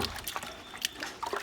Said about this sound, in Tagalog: Lagyan natin yan ng tubig.